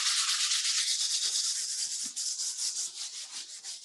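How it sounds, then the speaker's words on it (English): Sandpaper rubs back and forth over the painted area of a stuffed leather purse, a close, steady scratchy hiss in rhythmic strokes that eases slightly toward the end, with no talking. "And then we will sand our painted area."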